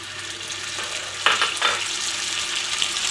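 Cardamom fries in a pan as sugar and a splash of water go in, bringing a steady sizzle that bursts louder and hissier after the addition before settling back.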